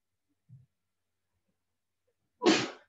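A single sharp sneeze bursts out after a brief quiet breath, close by and loud against near silence.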